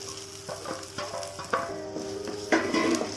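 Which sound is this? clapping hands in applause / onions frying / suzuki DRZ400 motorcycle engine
onions frying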